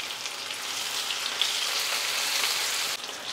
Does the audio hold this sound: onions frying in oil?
yes